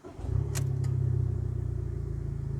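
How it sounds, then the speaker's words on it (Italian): An Abarth 595 Competizione engine cranks and fires up, then settles into a steady, loud, throbby idle close by, with a couple of brief clicks near the start. "Mettiamola in moto, sentiamo anche come suona."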